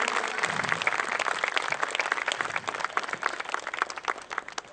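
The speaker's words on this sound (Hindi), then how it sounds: "तालियां हमें लगता भूल गए हम लोग इस माहौल में।" Audience applause at a welcome ceremony, a moderately loud crowd clapping continuously with distinct individual claps audible throughout.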